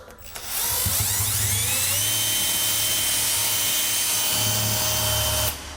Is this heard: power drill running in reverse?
yes